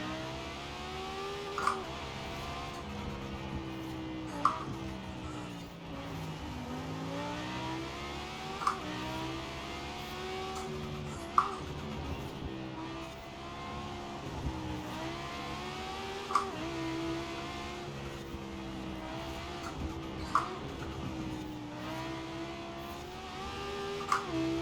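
Italdesign Zerouno engine in Forza Horizon 4 revs hard and upshifts rapidly, its pitch climbing and then snapping down at each quick gear change in a steady, repeating pattern.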